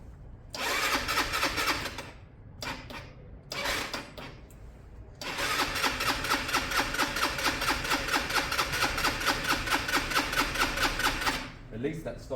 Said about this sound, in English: Also, the starter sounds great, right?